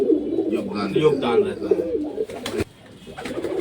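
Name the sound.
pigeons cooing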